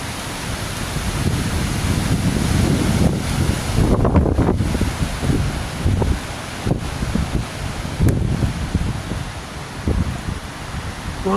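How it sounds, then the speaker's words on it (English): Strong wind whipping beside a stream, buffeting the microphone in loud, rumbling gusts over steady rushing water, with occasional rustles and knocks throughout and no voices. "I don't know if you guys can hear that wind, but man, it is whipping."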